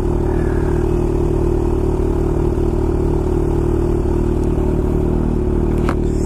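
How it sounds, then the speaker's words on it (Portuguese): A Kawasaki Ninja H2 motorcycle engine with a loud aftermarket exhaust roars steadily, a deep, constant drone heard up close from start to finish. "Escapamentão trocado também, tá? Tá berrando."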